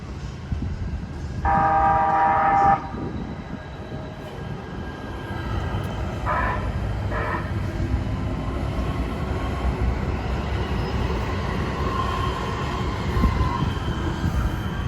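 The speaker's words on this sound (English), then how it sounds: "let's go ahead and take a look at the A-line train coming through really quick" A Los Angeles Metro A Line light-rail train passes through Azusa Downtown station, a two-island platform stop, with a brief loud horn-like tone early on, then a steady rumble and rolling wheel noise that carries through to the end.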